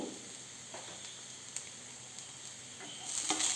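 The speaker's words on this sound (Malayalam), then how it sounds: "എന്നിവ ചേർത്ത് നന്നായി ഇളക്കുക." Grated coconut, chilli powder and salt for a papadam thoran are stirred in a hot pan, giving a faint steady sizzle with a few light scrapes and a slightly louder hiss at the end.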